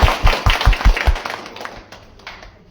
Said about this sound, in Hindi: चलिए पहले तो एक बार जोरदार तालियां सर के लिए।